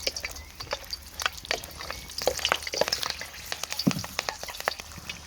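Two green chilies frying in oil for a British Indian restaurant-style biryani curry sauce, close irregular popping and spitting crackles over a constant sizzle.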